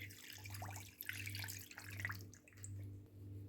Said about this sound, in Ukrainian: І наливаю сюди воду.